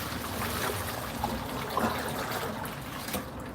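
Water poured out of a washing-up bowl, a soft continuous trickle and splash at moderate distance, fairly quiet and steady with small gurgles.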